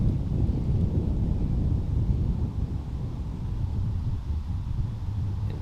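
Wind blows across an outdoor disc golf course at a pro tour event. It makes a heavy, rumbling buffet against the microphone that stays loud and continuous throughout, with no voices.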